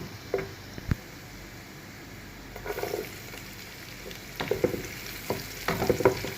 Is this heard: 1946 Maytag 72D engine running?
no